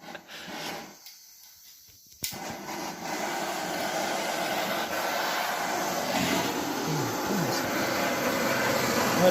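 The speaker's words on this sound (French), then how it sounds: "Donc on va prendre le chalumeau." Blowtorch roaring steadily as it heats a 2 franc coin for annealing, a continuous hissing rush that starts abruptly after a brief quieter moment and holds at close range.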